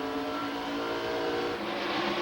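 NASCAR stock cars racing at Rockingham in 1998, a steady, loud engine drone with a sustained harmonic roar as cars pass in a pack, no talk.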